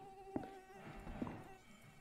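A mosquito buzzes in the horror video game Outlast Trials, a thin steady whine with a couple of brief louder accents over a low ambient game backdrop.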